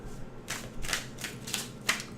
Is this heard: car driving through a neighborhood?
no